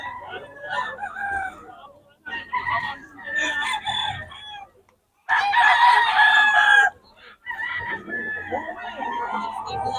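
Gamecock stags crowing: several loud, close crows in succession with clucking between them, while someone talks quietly in the background.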